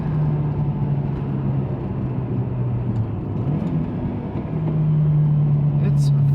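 A 1991 Toyota Sera with a factory five-speed manual pulls away in first gear, its engine a steady droning hum that dips and rises with a gear change, heard from inside the cabin with some talk over it.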